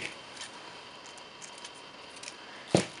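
Scissors snip a small piece of floral tape for a flower crown headband. A single short, crisp cut sounds close by against a faint, quiet background.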